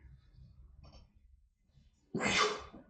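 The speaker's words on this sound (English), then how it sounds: "Look at that loud sneeze at the end of the video." A single loud sneeze bursts out near the end, after a stretch of quiet low rustling and faint breathing.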